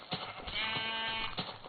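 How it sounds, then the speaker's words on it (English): A Minecraft sheep gives a short, quiet bleat, a wavering nasal cry lasting about a second, heard alone. "So many sheep."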